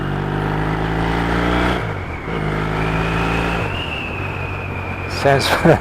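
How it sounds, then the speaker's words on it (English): Yamaha XS650 motorcycle with drilled-out mufflers, its engine rumbling steadily with a throaty, harmonic exhaust note and a rev change partway through, close by; a brief sharper burst comes near the end. "now we're back on the XS650 with the drilled out silencers, or drilled out mufflers"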